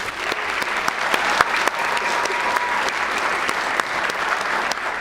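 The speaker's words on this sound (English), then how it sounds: "Let's give a round of applause to our students" Sustained audience applause for students at a children's book reading and writing event, a dense steady clatter of many hands that holds evenly throughout with no talk over it.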